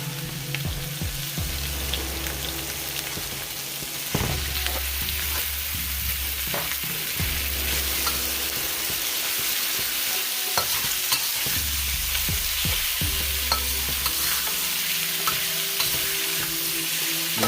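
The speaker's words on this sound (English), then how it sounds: "Cook the beef till it's done." Beef stir-frying in a pan for a Chinese takeout-style beef, broccoli and shrimp dish, with steady loud sizzling and repeated scraping stirs at an irregular rhythm throughout, no voices.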